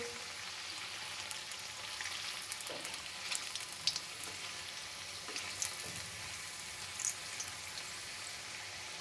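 Taro (arbi) pakoras deep frying in oil, a quiet steady bubbling sizzle with scattered small pops and crackles heard close, with no voices.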